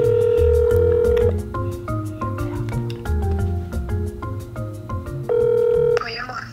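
A phone call is dialed and starts ringing, with short keypad tones followed by repeated ringback beeps in a steady rhythm. Music plays underneath.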